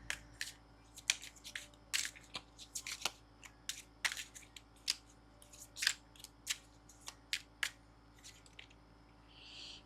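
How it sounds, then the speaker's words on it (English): A tarot card deck is shuffled close up in quick irregular bursts of crisp riffling snaps and slaps, some clusters loud and others soft, over a quiet low hum with no talking. "as I begin shuffling the last tarot deck"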